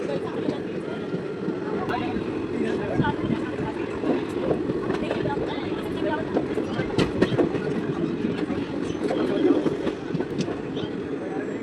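A train running into a railway station in rural India, with a steady loud rumble and the clatter of wheels on the rails all through, under which someone talks.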